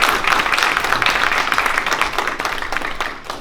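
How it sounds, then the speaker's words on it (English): Audience applause at the 2023 Phi Alpha Delta Barbara Jordan Award presentation, a dense, steady wash of many hands clapping that fades slightly toward the end. "one more round of applause for Michelle and Judge Hubbard"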